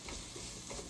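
Onions and peppers fry in oil in a pan before cube steak is slow-cooked, a faint, even hiss of sizzling close by with no talk.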